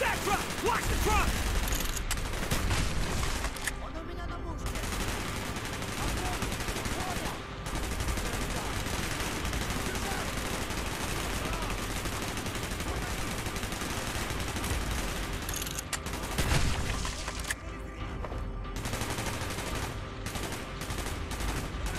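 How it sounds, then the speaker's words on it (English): Sustained bursts of gunfire in Call of Duty: Black Ops, rapid automatic fire mixed with single shots, dense and loud throughout with brief lulls. "Gunfire's drawing attention."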